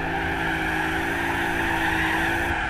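Sustained tire squeal from a car drifting through a corner in Gran Turismo 4, loud and continuous over engine noise.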